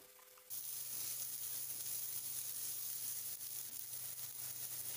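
Cabbage and green peas frying in a pan, a steady close sizzle and hiss that starts abruptly and continues evenly throughout with no talking.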